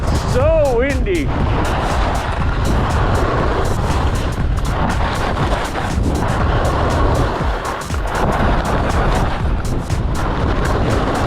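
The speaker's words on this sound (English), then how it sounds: "Wow, it's so windy." Heavy wind roars constantly and loudly across the microphone, with rapid crackling buffets and a brief whooping voice near the start.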